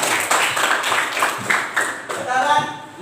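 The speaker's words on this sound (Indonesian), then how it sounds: "Benar, tepuk tangan." Students in a classroom clap together in a dense, fairly loud patter of hand claps that runs throughout, mixed with voices talking over it.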